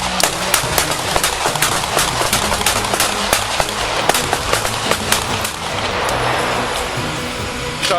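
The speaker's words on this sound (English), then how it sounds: "officers and deputies discharged their service weapons toward the driver" Police officers and deputies firing their service weapons toward a suspect's vehicle, a rapid volley of sharp cracks in irregular bursts over street noise, gradually giving way to a denser, steadier roar near the end.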